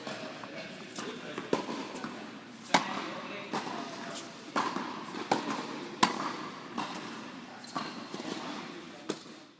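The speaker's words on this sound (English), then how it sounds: "As you can see in this rally, the ball hitting a racket is what makes us keep playing." Tennis balls strike rackets during a rally, giving repeated sharp pops spaced a second or two apart over steady background noise and reverberation.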